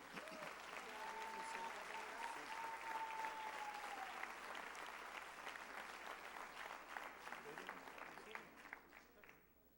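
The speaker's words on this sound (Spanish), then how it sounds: "¿Por qué no le da un fuerte aplauso al Señor?" A church congregation applauds during a Spanish-language worship service, a full, rhythmic round of clapping with some voices calling out, gradually tapering off toward the end.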